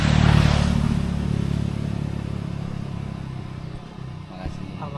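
A Honda C70 motorcycle engine runs smoothly on Sumba, a steady low idle that holds throughout under nearby conversation.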